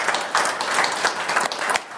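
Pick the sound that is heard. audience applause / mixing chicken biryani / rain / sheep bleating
audience applause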